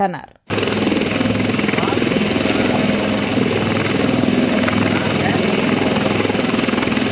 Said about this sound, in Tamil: வெள்ளத்தில் சிக்கியிருந்த 6 பேர் ஹெலிகாப்டர் மூலம் மீட்கப்பட்டனர்.